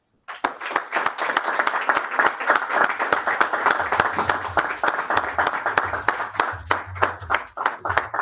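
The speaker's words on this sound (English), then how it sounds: "please give a warm round of applause to Derek Mandela." Audience applause at a Toastmasters club meeting: steady, dense clapping from a room of people that starts abruptly and carries on at an even level throughout, with no talk over it.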